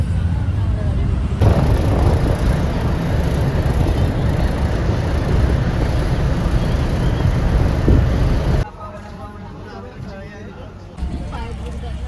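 A bus engine and road noise roll steadily for most of the stretch, then the sound suddenly drops to a quieter background near the end.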